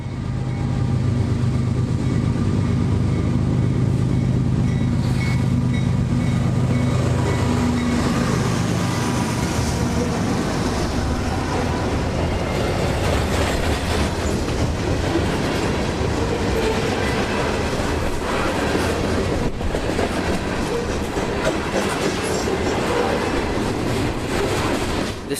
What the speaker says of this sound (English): CSX is still a frequented visitor, like tonight's M453 heading south to Miami